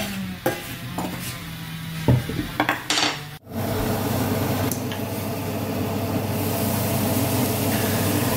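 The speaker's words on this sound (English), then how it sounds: "Stir occasionally only with wooden spoon." Stewing apple in a pot, stirred with a wooden spoon: loud scraping and knocks against the pot give way to a steady, close, bubbling simmer.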